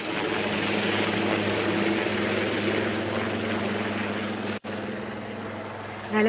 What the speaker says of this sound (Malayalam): നമുക്ക് കേൾക്കാം ഹെലികോപ്റ്ററിന്റെ ചിറകടിയൊച്ച